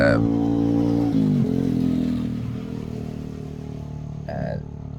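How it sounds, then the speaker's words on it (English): Diesel barge engine on a river rumbles steadily with a low droning throb and a shifting pitch, fairly close, while a person talks over it. "There's all these diesel barges, diesel engines going up and down the river all night"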